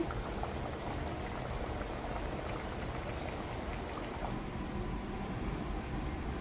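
A pan of thick Rajasthani gatte curry bubbles and simmers continuously at a steady, even level, with no voices.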